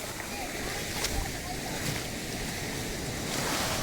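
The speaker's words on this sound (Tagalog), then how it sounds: "malaki na yung alon" Ocean waves near high tide against a rocky shore in Quezon province, a continuous rushing wash of surf with gusts of wind noise on the microphone, loud and close with small swells of intensity.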